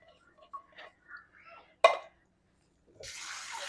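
Cold tap water runs into a kitchen sink to rinse canned beans for chili, a steady splashing stream starting after a few soft clinks and handling noises.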